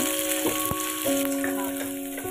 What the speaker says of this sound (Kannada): ಹಾಗೆ ಇದಕ್ಕೆ ನಾನು ಈ ಎರಡು ಮೆಣಸಿನ್ಕಾಯಿ ಹಾಕೋತಾ ಇದ್ದೀನಿ